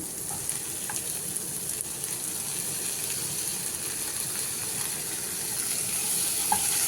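Chopped tomatoes with salt fry in a pan, giving a steady, close sizzle throughout, with occasional faint clinks and no speech over it.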